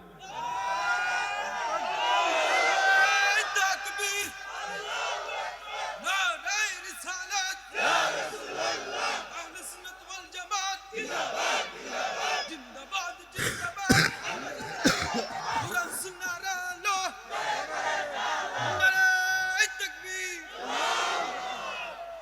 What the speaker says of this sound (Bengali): এবার তাকবীর দেন জোরে।